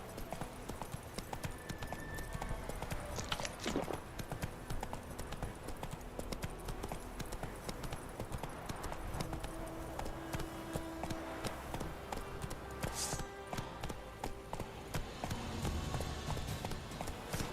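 The horse Roach gallops steadily, a quick continuous clip-clop of hooves on ground, close and even throughout, with an occasional brief noise and no talk.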